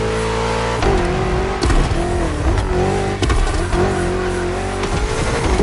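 A BMW M car in The Crew Motorfest drives with a steady, loud engine drone that rises and dips with gear changes, and tires hiss on the road, with no talking.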